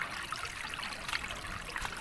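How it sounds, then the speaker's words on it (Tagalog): Floodwater overflowing from a fishpond in a flooded field, a steady rushing trickle and splash of running water, close and continuous with no talk. "Awas ng tubig."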